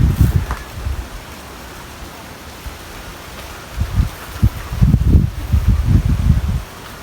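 Low, gusty rustling of giant alocasia plant leaves stirred by wind, with soft bursts swelling and fading, strongest toward the end; no voices.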